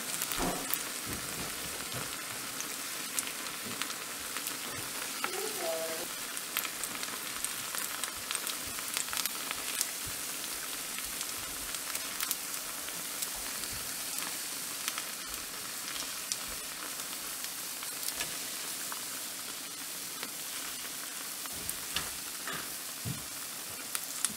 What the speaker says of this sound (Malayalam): ബാക്കിയുള്ള ഉണ്ണിയപ്പം ഇതുപോലെ ഫ്രൈ ചെയ്തെടുക്കുക